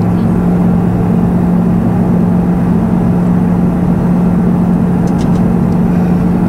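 A loud, constant aircraft engine rumble heard from a passenger seat, with a steady low hum filling the whole stretch, unbroken and close.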